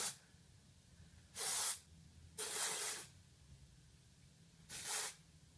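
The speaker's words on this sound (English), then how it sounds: "I'm going to go ahead and go in with just some dry shampoo" Three short hissing bursts of Not Your Mother's dry shampoo aerosol sprayed onto hair, each lasting about half a second with quiet pauses between, close to the microphone.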